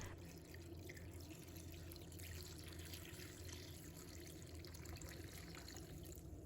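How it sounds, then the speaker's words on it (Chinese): Clean water pours into a bowl of rinsed pickled mustard tuber, a soft, steady trickling splash that runs continuously and quietly throughout. "再倒入清水"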